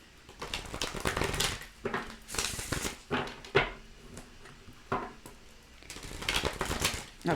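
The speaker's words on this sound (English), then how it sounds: "Let me give it 2 more shuffles" Tarot cards shuffled by hand in a quiet room, a dense run of soft papery riffles and taps that rises and falls in bursts, fairly faint and close with no talking.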